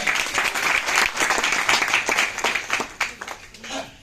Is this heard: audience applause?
yes